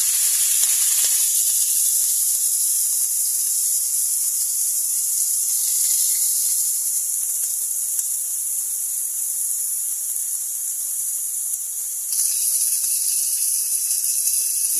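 Salmon frying in a pan for a Chinese soup gives a continuous, even hiss and sizzle that holds steady for the whole stretch, with no voices.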